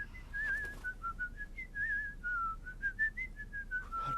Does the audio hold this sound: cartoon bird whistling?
yes